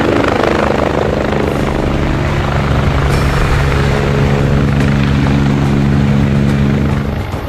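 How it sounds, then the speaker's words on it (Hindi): A helicopter flies over mountain valleys during a flood disaster rescue, its rotor and engine producing a loud, continuous throbbing roar that holds steady and close throughout, with no voices. "पहाड़ों पर हेलीकॉप्टर की लगातार गर्जना एक उम्मीद है तबाही से जूझ रहे लोगों के लिए।"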